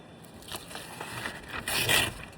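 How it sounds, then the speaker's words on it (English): HVAC tape being unrolled around a camper's unit to seal it, heard as short sticky rasps and peeling scrapes that end in a louder drawn-out tear, close up with no talk. "I'm going to take some HVAC tape"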